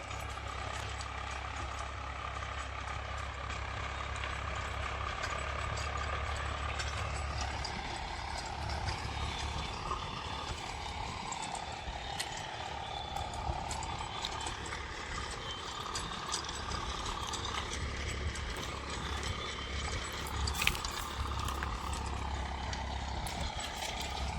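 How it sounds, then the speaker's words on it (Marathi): A tractor engine drones steadily in a sugarcane field at planting time, a continuous low rumble running for the whole stretch with no talk over it. "काही ट्रॅक्टर पण चालू आहे"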